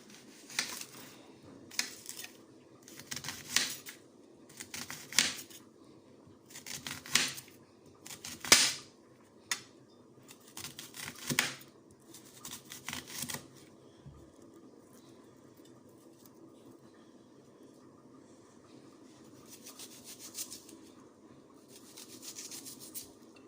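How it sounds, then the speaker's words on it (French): A knife chopping onions for a chicken mayo recipe: a quiet series of crisp, close cuts in an uneven rhythm for about thirteen seconds, then near silence. "Et là, je vais couper des oignons."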